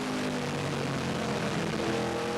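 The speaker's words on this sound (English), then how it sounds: "Listening to him get on and off the throttle." A Pro Cup stock car at St. Augustine Speedway, heard from a deck-lid mount, drones loudly and continuously for a few seconds as the driver eases on and off the throttle, with no talk over it.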